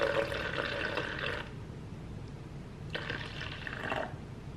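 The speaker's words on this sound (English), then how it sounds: "add 118 milliliters of the Trader Joe's coconut cold brew coffee concentrate" Trader Joe's coconut cold brew coffee concentrate is poured in two steady streams, each over a second long with a short pause between, close and clear with no talking.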